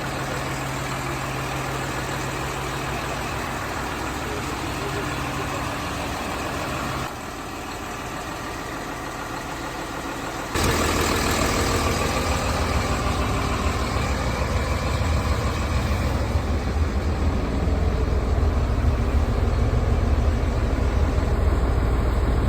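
A New Way Sideliner recycling truck idles nearby, its engine giving a continuous low rumble with a steady drone that shifts level partway through and grows heavier and louder in the second half.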